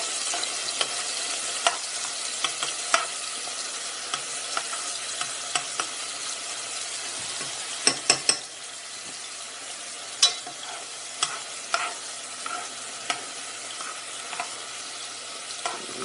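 Garlic frying in hot oil in a pan, a steady crackling sizzle with scattered louder pops and stirring clicks throughout, no talking.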